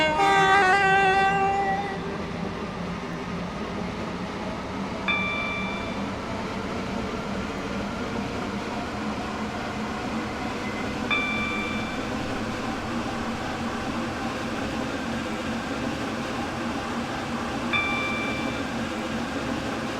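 Train running in the Stepford County Railway Roblox game, a steady rumbling drone throughout with a louder start, faint tonal chimes recurring roughly every six seconds.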